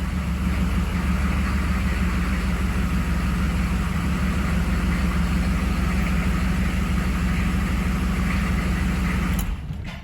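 A 6.5 diesel engine just started and idling roughly with a fuel problem, a loud, steady low rumble with rapid, uneven knocking that continues alone for ten seconds before it cuts off at the end.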